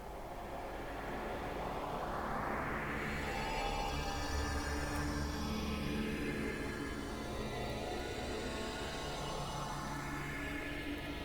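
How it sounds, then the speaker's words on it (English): Dense, dark ambient drone from the Reaktor Stella synth plugin, a thick wash of noise and layered tones with slow sweeping filter movements rising and falling, sustained and steady throughout without any pause. "So still very much in the realm of dark ambient and drones."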